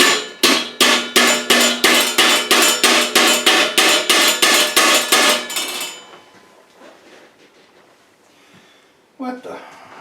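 Loud, regular hammer strikes knocking rivets down into a metal computer case, about a dozen ringing metallic blows in quick rhythm that stop abruptly, followed by quiet handling noise and a brief voice.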